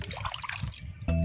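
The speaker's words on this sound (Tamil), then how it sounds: "இப்படி நல்லா சுத்தமாக மீன் கழுவணும்" Water splashes and trickles over raw fish as it is rinsed clean, a close, uneven run of watery sloshing that ends with a sudden steady buzzing hum.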